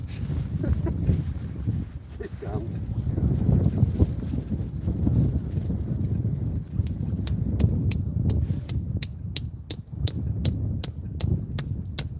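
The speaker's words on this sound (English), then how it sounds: "It's just the wind is just ridiculous." Strong, damp winter wind roars and buffets the microphone continuously at a lakeside fishing spot, with a few faint clicks and taps near the end and no talking.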